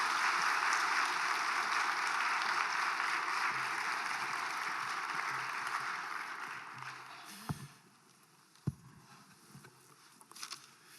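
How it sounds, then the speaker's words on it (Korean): A church congregation claps in sustained, even applause that fills the room for several seconds, then fades out and leaves a few scattered thumps and faint rustling. "우리 박수로 환영하겠습니다"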